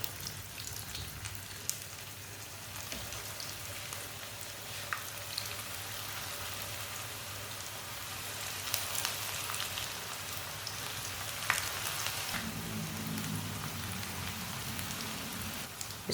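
Kebabs fry in hot ghee with a continuous crackling sizzle like steady rain, quiet and close, with occasional pops and a low hum underneath, and no voices.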